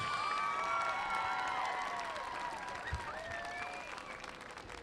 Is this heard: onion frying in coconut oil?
no